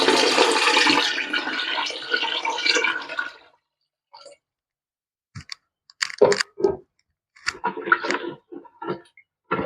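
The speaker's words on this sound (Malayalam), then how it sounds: "നമ്മൾ വെള്ളം ഒഴിച്ച് കൊടുക്കുകയാണ്." Water pours in a steady rushing stream into a grape wine mixture for fermentation for about three seconds, then stops, followed by scattered close clicks and scraping knocks.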